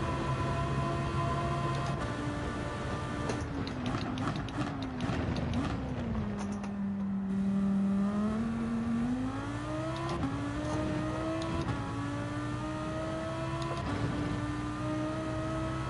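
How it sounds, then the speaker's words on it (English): A Lamborghini Huracan GT3's V10 engine in the racing game Gran Turismo 7 howls continuously at high revs, pitch sliding down and climbing again through gear changes, loud and steady throughout. "Just listen to that V10 roar for a moment in the Lamborghini Huracan GT3"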